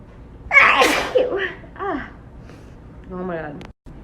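Big allergy sneezes from a person, one sharp explosive burst followed by shorter breathy noises and a voiced trailing sound, close and loud against a quiet room.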